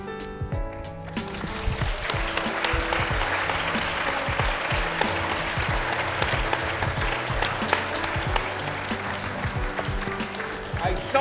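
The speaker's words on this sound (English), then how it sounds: "I saw that the applause was not warm." A lecture audience applauds, a dense sustained patter of clapping from a crowd in a hall that holds steady for several seconds.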